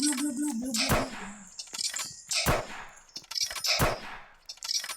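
Sharp sniper gunshots crack in a Roblox shooting game, three or four separate loud shots with clanks and small effects between them, under faint talk.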